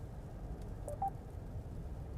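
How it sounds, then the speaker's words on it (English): A Mercedes-Benz MBUX in-car system dials a phone call: a faint short electronic tone blips once near the middle over a low steady cabin hum. "I am calling the cell phone of Dirk Fetzer now"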